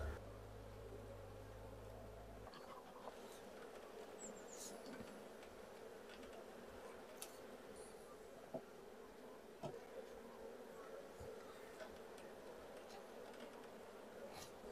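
A faint, steady hum of many honeybees buzzing around a hive during a spring inspection, continuous and low, with occasional soft clicks and no talking.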